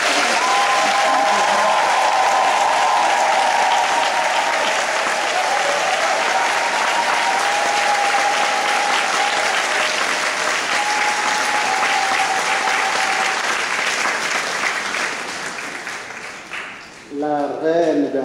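A large gathering in Jacqueville, Côte d'Ivoire, applauds the queen with dense, sustained clapping close up and steady throughout, mixed with some cheering, before easing off near the end as a voice comes in.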